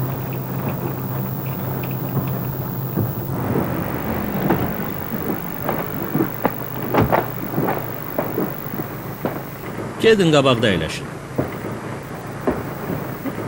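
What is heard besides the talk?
heavy rain and thunder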